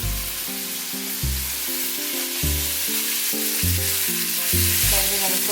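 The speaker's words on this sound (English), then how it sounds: "we're going to take our plantain and we're going to fry these up." Plantain slices frying in a frying pan, a steady sizzle throughout, heard close and alone while a low musical tone pattern plays underneath.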